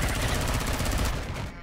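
Rapid turret gunfire in the space survival game Empyrion, a dense, loud burst of continuous shots that holds steady and then trails off at the end.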